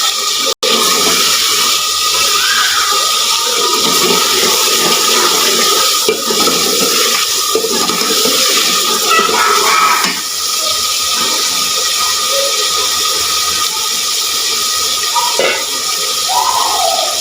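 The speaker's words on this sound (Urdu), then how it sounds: "اب میں یہ 1 گلاس اس میں پانی ڈال دوں تاکہ اس کا شوربہ بن جائے" Water from a glass poured into a pan of tinda gosht, a meat curry cooking on the stove, making a loud, steady rushing splash that runs the whole time.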